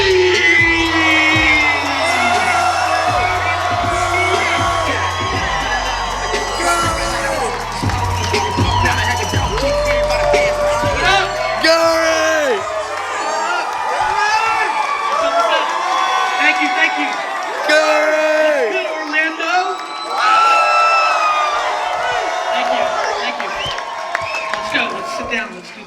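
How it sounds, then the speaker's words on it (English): A large seminar crowd cheers, whoops and applauds to welcome GaryVee, loud and sustained, with an amplified announcer's voice and music over the roar early on before the noise settles into scattered shouts. "Please welcome a Success Resources roaring round of applause for"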